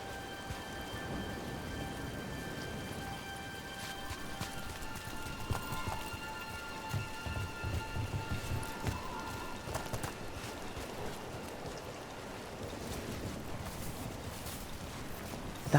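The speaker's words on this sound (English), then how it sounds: "Nobody else around here dumb enough to wait in the rain?" Steady rain falls in a Dragon Age: The Veilguard game scene, a dense continuous patter with faint drips and splashes running throughout, with no voices over it.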